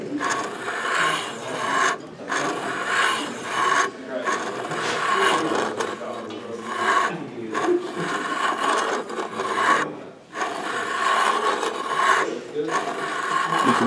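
Ridge reamer cutting the worn ridge at the top of an engine cylinder, giving a steady, close, rhythmic rasping and scraping that pauses briefly between strokes, with some speech mixed in.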